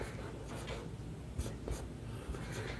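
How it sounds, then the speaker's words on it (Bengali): A pen scratches across paper while lecture notes are written by hand, a quiet run of short strokes and scrapes in a soft, steady rhythm. "তাই লিখব"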